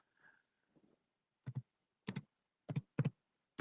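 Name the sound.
typing on a computer keyboard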